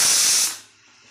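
A pressure cooker holding taro leaves and tomato lets out a short, loud hissing whistle of steam, close by, that fades out within about half a second.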